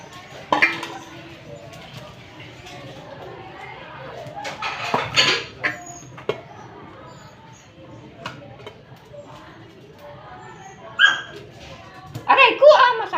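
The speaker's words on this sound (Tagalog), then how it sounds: "Gutom na gutom na yung dalawa kong tuta." Two hungry puppies at dinner over a dish of mung bean soup, with scattered clinks of bowl and utensils and a few sharp yips, while a person talks nearby.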